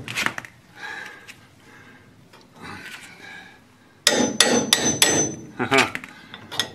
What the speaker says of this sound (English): sometimes a hammer is the tool of choice